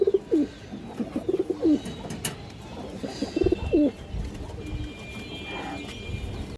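High-flying pigeons coo in repeated soft, throaty phrases close by, with light rustling and shuffling noise around them and a faint voice briefly in the background.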